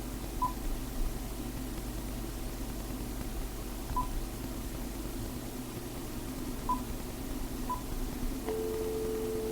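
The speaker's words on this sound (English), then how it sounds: "You hear dial tone? Yeah, there it is." A steady telephone dial tone hums on its own, with a few faint beeps scattered through and a brief tone shift near the end.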